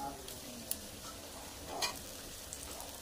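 Ginger and masala stirred into okra frying in a village-style kitchen, a faint, steady sizzle with a few soft utensil taps and no talking.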